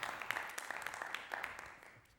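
A game show studio audience claps for the day's winner, a brief burst of faint, quick applause that thins out and fades.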